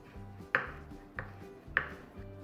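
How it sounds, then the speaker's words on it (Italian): A knife chops rosemary sharply on a cutting board, three distinct crisp taps spaced about half a second apart, close and fairly quiet. "dobbiamo tritare, quindi tagliare piccolo piccolo piccolo, un po' di rosmarino"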